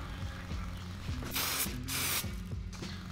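A wet coat of Superwrap coating sprays from a gun in two loud hissing bursts, with rhythmic mechanical clicking and ratcheting before, between and after them.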